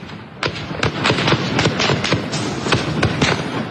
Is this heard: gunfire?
yes